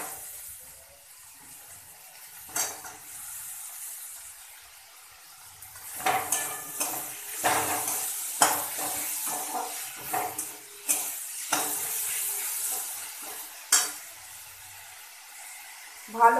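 Chopped tomatoes fry in a pan with a bright hiss and sizzle, while a spoon scrapes and knocks against the pan in repeated bursts of stirring, close up and fairly loud.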